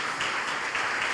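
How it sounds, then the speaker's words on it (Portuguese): Church congregation applauding during a worship service, a dense, steady wash of many hands clapping at moderate level with no voice over it. "Vamos aplaudir de novo a ele."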